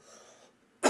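A single short, sharp cough bursting out abruptly after a quiet stretch, close and fairly loud, cut off at the end.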